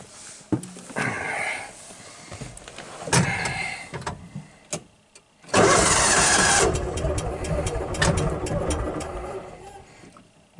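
A Kawasaki Mule utility vehicle's engine cranking in cold weather, a few short starter bursts and clicks, then catching and running loudly up close before settling toward an idle.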